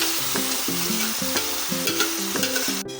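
Meat tipped into a pan over full flame for home-cooked biriyani, frying with a steady loud sizzle while a spatula scrapes and stirs in rhythmic strokes, with no voices.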